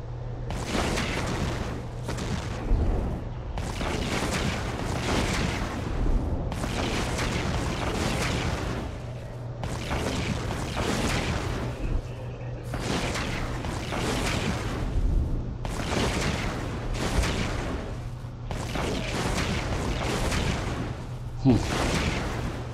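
Ship weapons firing in the video game EVE Online sound as a regular series of booming blasts under a steady low hum, with a voice talking throughout.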